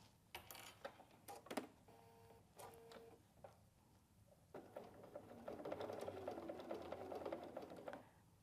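BERNINA sewing machine fitted with a lap seam foot, stitching binding toward a mitered corner: faint short bursts of rapid mechanical stitching, with a pause before a longer continuous run of needle clatter.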